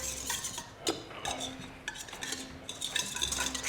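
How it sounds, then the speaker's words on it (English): A whisk clinks and scrapes rapidly against a bowl while beating a mixture with lemon juice added, irregular metallic taps and stirring strokes close by, with no talking. "Now, do you know how to whisk?"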